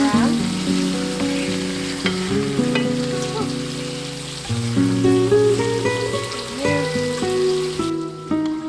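Chicken livers fry in a pan and are flipped with a spatula, giving a steady close sizzle with occasional scrapes, partly masked by loud background music throughout.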